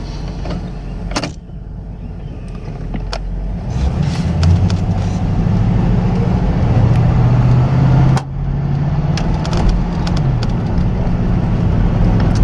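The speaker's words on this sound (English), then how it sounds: "I'll just take this for a little drive here so you can see that it does in fact work." A 1983 Buick LeSabre wagon with a swapped LT1 engine drives at low speed, its steady engine drone and road noise heard from inside the car, with a pitch that rises and falls and a few clicks and thumps, with no talking.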